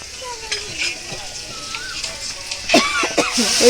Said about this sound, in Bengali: মা এখন সোমবরা দিচ্ছে ডালে